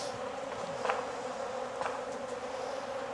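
Honey bees buzz in an open hive, a dense continuous drone close by, with a few individual bees flying briefly louder past.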